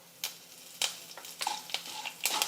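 Curry leaves and green chillies frying in a pan with oil for a Kannada instant dosa recipe: soft sizzling with sharp, scattered crackles and pops, plus a few stirring scrapes, fairly close and quiet.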